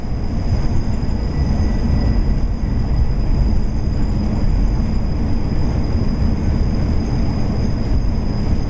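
A train rolling steadily in the Train Sim World 4 game, a continuous low rumble of wheels on track with a faint high whine, even and unbroken throughout.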